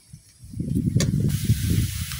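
Ground spices dropped onto fried onions in a hot wok, raising a close, rough hissing sizzle that swells and holds for a couple of seconds, with no talk.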